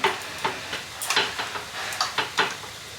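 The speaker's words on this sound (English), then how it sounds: "And then I'm just gonna mix it all together." Curd being stirred into food in a bowl with a utensil, giving a series of close, wet scraping and clinking strokes in an irregular rhythm, with no talking.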